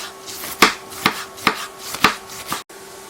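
A knife chopping cabbage on a board in a village kitchen, five crisp, evenly spaced thuds about half a second apart, close and loud with no talking.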